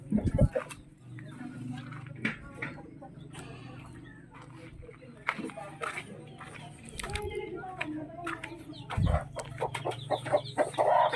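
Crossbreed chicks of a native hen and a White Leghorn cluck and peep in a farm pen, with the mother hen nearby, in a steady stream of soft calls and occasional louder bursts while a person talks in the background.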